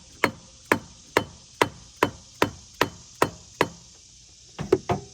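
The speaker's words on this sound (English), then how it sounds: "I'm going to take a block of wood and my bouncy hammer" A red bouncy hammer taps a block of wood while setting a part on a Jeep, nine sharp, evenly spaced knocks followed by a quick cluster of three, close and clear.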